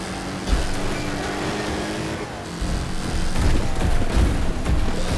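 Cars colliding and wrecking in a Wreckfest demolition derby heat race, a loud continuous rumble of engines and crunching impacts that swells and grows heavier toward the end, with no talk.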